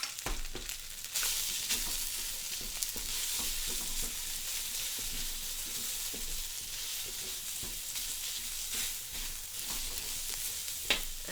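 Rice stir-fries in a hot wok, a continuous bright sizzle with steady scraping and tossing throughout, close and even, with no voices.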